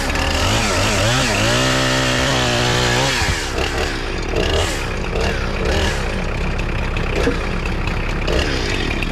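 Chainsaw cutting logs into roughly three-foot sections while setting up a sawmill yard at an off-grid cabin; a loud, steady engine whine rises and falls as the chain bites, staying close and continuous throughout.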